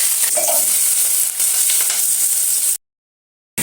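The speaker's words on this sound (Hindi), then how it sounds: "देखो कड़ी गर्म हुई है, इसमें ज़रा तेल डाल ले रही हूँ" Onions frying in hot oil in a kadai give a loud, steady close-up sizzle with stirring, then a brief silence before the sizzle resumes.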